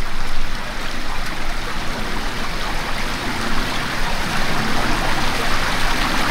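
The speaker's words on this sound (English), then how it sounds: "The pond, you know. It's more of a stream." A small stream beside a pond flows outdoors in a steady, close, continuous rush and trickle of water, with no talking.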